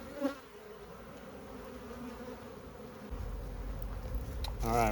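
Honey bee swarm buzzing in a swarm trap during a transfer into a ten-frame box, a steady moderate drone of many bees close by, with a few louder individual bees passing near the end.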